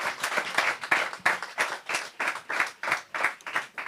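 An audience at a lively religious gathering claps in a fast, steady rhythm, with sharp, evenly spaced bursts repeating about three times a second throughout.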